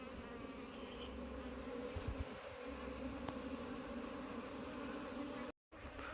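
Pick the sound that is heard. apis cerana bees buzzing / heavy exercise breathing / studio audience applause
apis cerana bees buzzing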